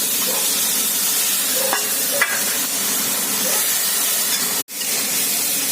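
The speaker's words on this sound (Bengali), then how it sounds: "মশলা দিয়ে ভালো করে কষানো হয়ে গেছে।" Prawns and vegetables stir-fried with a spice paste of ginger and turmeric: a steady close hiss of frying with a few brief scrapes of stirring, then a sudden short break near the end before the sizzle resumes.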